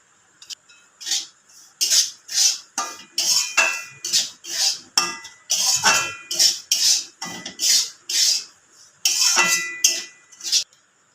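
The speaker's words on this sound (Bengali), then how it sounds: "সুজিটা আমি ভেজে নেব ভালো করে, লাল করব না।" Semolina dry-fried in a pan, stirred with a utensil: a quick, regular series of close scraping and clinking strokes against the metal, about two per second, alone and fairly loud.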